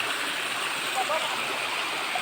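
Water flowing at La Paz Limestone Waterfalls makes a continuous broadband rushing, heard close and steady across the short stretch.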